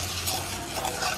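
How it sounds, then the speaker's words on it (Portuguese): A spoon stirring a pot of turmeric, salt, garlic and olive oil in a home kitchen, a steady scraping swirl with light sizzling underneath, close and continuous without any talking. "Vou misturar aqui um pouquinho antes."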